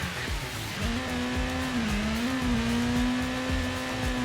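Car engine revving hard through a clutch-kick drift entry in second gear, a loud close sustained engine note with slight pitch wobble and tire noise, no talk.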